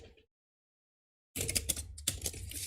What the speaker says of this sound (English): Let me do a side shuffle here.